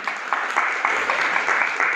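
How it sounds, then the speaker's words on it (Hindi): Crowd applause at a cow-protection awareness event at Jiwaji University in Gwalior, a dense steady wash of many hands clapping together at some distance. "सौरभ जी के लिए जोरदार तालियां हो जाए।"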